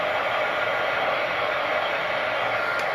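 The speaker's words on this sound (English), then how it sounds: "So I am going to use my dryer." Hair dryer blowing steadily on freshly painted windmill sign, a continuous close, loud airy whoosh with no breaks throughout.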